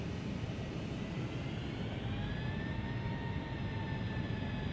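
Boeing 757 jet engines in the FSX flight simulator spooling up on their own, a steady, broad engine roar with a slowly rising whine held throughout, fairly loud and with no talking.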